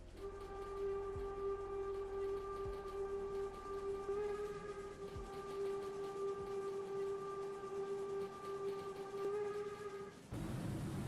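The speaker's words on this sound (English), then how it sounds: "Longer whistle." A long, steady steam-style train whistle from the SimRail railway simulator game sounds continuously for about ten seconds, loud and close with a rich harmonic tone, then cuts off abruptly.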